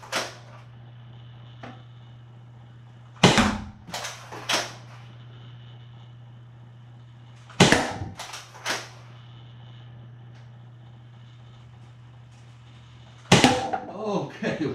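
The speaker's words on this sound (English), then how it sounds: "testing out the brand new AccuRival rounds in the brand new Pathfinder" Nerf Rival Pathfinder blaster launching AccuRival foam rounds, three sharp clusters of loud snapping shots spaced through the clip over a steady low hum, each burst a quick pair or trio of cracks.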